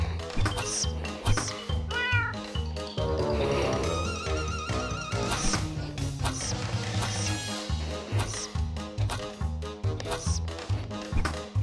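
Cartoonish cat meows repeat loudly and rapidly in the video game Konrad the Kitten, layered over upbeat game music and sound effects.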